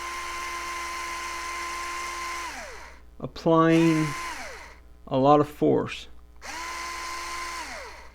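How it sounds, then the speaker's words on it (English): Power drill boring tuner holes in a Telecaster-style guitar headstock, a loud steady whine that runs, winds down and restarts in three bursts, with someone talking between them. "I'm attempting to let the drill do the drill's job."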